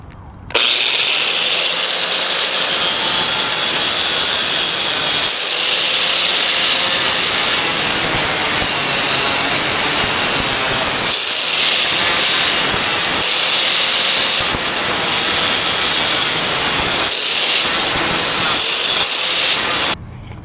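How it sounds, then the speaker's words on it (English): Angle grinder fitted with a cutting blade slicing through asphalt pavement, a loud harsh continuous grinding roar with brief dips as the blade lifts and bites again. "So I've got a blade in the angle grinder."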